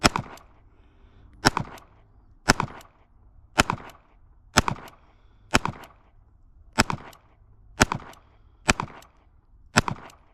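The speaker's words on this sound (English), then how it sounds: "We're going to shoot at the target on the end here that I had already shot at." A Ruger LCP Max pistol fires about ten sharp shots at a target, evenly spaced roughly a second apart, each crack loud and clipped with a brief echo and no voices.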